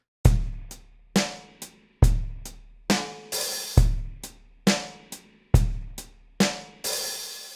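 A steady drum groove of kicks and snare hits, with a sizzling open hi-hat splashing once near the end of each bar.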